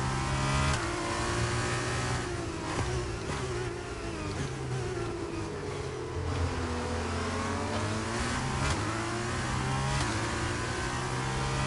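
A Formula 2 race car engine from the F1 22 video game revs and whines steadily throughout, with rising and falling pitch sweeps as it shifts and accelerates. The loud, continuous drone carries no talk.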